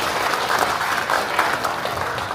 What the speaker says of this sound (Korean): 그 청양군을 위해 큰 비전을 보여주신 군수님께 다시 한번 큰 박수 부탁드리겠습니다